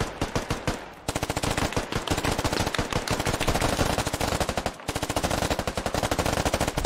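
Rapid machine-gun fire from a shooter video game, with friendly troops being hit, rattles out in loud continuous bursts, briefly pausing near the start and again partway through before resuming at full intensity.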